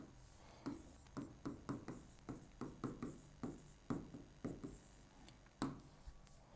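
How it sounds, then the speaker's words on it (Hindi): Pen scratching on paper while equations are worked out, a run of about a dozen short, evenly spaced strokes, close and quiet, with no talking. "लिख लेते हैं"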